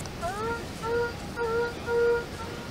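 Four warbling electronic beeps from a metal detector signalling a quarter on a beach, each a slightly rising tone, repeat at an even pace against a quiet background hiss.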